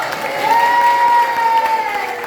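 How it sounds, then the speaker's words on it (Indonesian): A church congregation at a Good Friday service breaks into sustained cheering and applause, a steady crowd roar with a sung or shouted tone held over it for about two seconds. "Nanti kalau saya bilang Yesus bangkit, cepat sorak-sorai ya"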